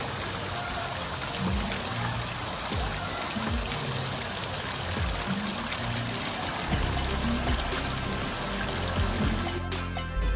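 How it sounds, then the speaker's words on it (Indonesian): Water trickles steadily from a decorative pond beside the lobby at Orange Groves PIK 2, a continuous, even wash of splashing that fills the space with no pauses. "menikmati gemericik air dari kolam cantik yang berada di sisi lobby"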